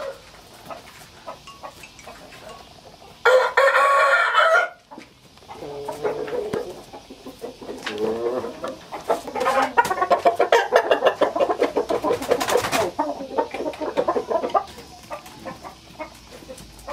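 A rooster crows loudly near the start, followed by ongoing clucking and fowl chatter from several chickens in a busy, noisy setting.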